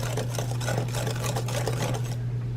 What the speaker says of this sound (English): now you whisk it together real well